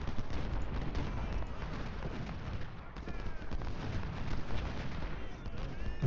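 Battle in the Ultimate General Civil War game, Prairie Grove map: a dense, continuous crackle of musket volleys mixed with booming artillery rolls on without a break, moderately loud.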